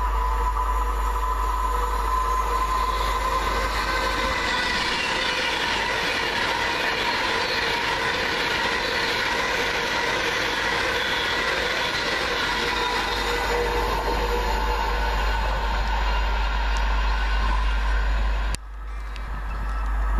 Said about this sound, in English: Coming down now for Virgin Trains, 1 Bravo 76 from Birmingham New Street to London Euston